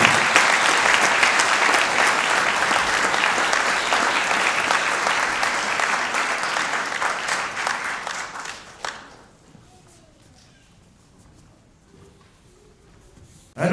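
A crowd at an honoured-guest presentation claps in a long, dense burst that holds strong for several seconds, thins and fades out, leaving near silence before a sharp sound at the very end.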